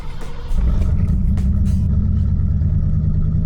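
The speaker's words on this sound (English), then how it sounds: "Cold start." A Mercury car starts from cold on a $2,500 budget build: a brief starter crank, then the engine catches with a sudden loud rise and settles into a rough, rumbling idle close by.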